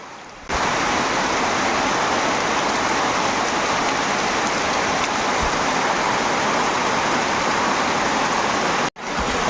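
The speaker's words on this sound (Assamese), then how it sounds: "অৱশেষত ডাঙৰকৈ বৰষুণ মাৰি দিলাক" Heavy morning rain pours down in a steady, dense roar, close and loud and continuous throughout, with no voices.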